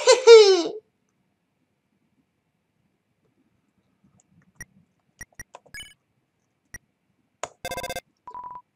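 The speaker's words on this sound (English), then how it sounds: "Ring, ring." Undertale video game sounds: a short synthetic phone-ring chime opens, then after a long silence come scattered clicks, beeps and a quick electronic ringing burst, with no one talking.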